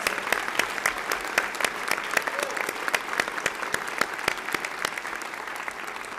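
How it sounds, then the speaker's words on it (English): Sparse audience applause in a legislative chamber during a state of the state address, scattered distinct claps over a steady wash of crowd noise, fairly distant and moderate in level. "Let's give them another round of applause."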